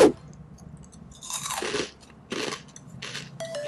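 Someone bites into crunchy Koloko pea crackers up close, a sharp crack followed by three bursts of loud crunchy chewing with short pauses between them.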